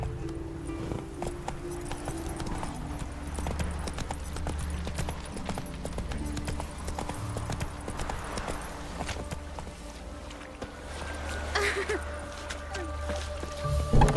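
Roach, the horse in The Witcher 3, clip-clops at a walking pace with steady hoof falls over a continuous low game soundscape, fairly close and moderately loud.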